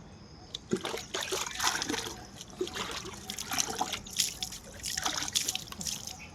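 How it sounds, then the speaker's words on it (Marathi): Water splashes and trickles unevenly into a container, with intermittent drips and gushes at moderate volume and no voices. "हे पाणी असं मी भरते तुम्हाला मी दाखवते कसं भरावं लागते पाणी"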